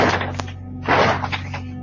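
Heavy blows land on a locked front door fitted with a Ring camera, a few dull thuds and thwacks spaced unevenly, fairly close and loud, with broadband bursts between them.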